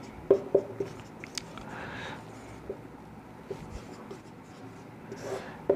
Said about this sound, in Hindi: हम लिख दें,